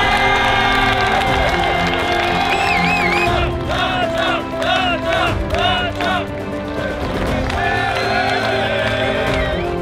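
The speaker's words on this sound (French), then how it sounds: "Tonnerre d'applaudissements s'il vous plaît pour Cédric Latcha." Crowd noise at a drifting competition, clapping and cheering mixed under loud music and a French-speaking announcer's voice, whoops rising over the busy din.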